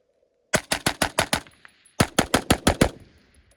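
An AR-15 rifle with a 20-inch barrel fires two rapid bursts of about six sharp, loud shots each, separated by a short pause.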